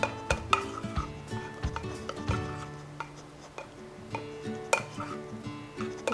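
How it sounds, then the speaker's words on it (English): Onigiri rice gets stirred and mixed with its ingredients in a bowl, giving soft scraping with intermittent clicks and taps of utensil against the dish, close and quiet. "please mix all together until it's all mixed"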